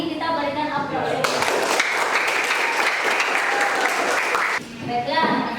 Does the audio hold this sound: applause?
yes